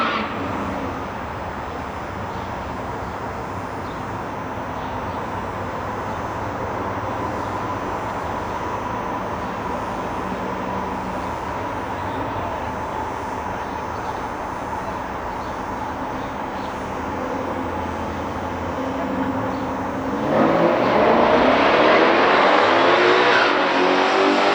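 Two 1969 Chevrolets, a Yenko Camaro and a COPO Chevelle, in a factory stock drag race: a steady engine roar held from a distance, swelling suddenly louder and rougher near the end as the cars launch or pass close.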